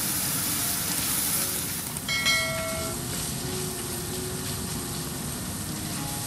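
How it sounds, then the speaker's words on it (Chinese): Diced pickled mustard greens and diced meat stir-frying in a wok give a loud, steady, close sizzle, with a few light metallic clinks early on and no talking. "翻炒一会儿后下入炒好的肉丁"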